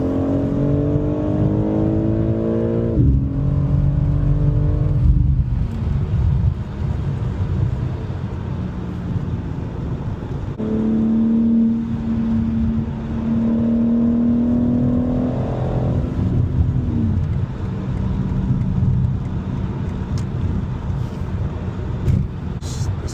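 A stock BMW G82 M4 Competition at a local car meet pulls hard under throttle. Its engine roars loudly in two long, rising accelerations with gear-change dips, close and continuous throughout.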